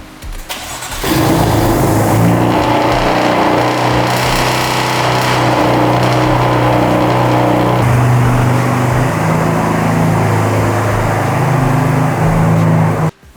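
A BMW F82 M4 with a Remus exhaust cranks and fires up loudly, then settles into a deep, steady idle with a rough burble that shifts slightly midway before cutting off at the end.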